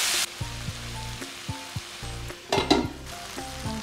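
Two large ripe tomatoes frying in a pan for a masala egg roast, a steady sizzle with occasional scraping stirs and a brief louder burst of hiss, nearby and with no voices.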